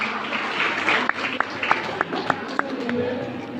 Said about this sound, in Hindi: जुनेद बाबा के लिए बिल्कुल तालियां बजाए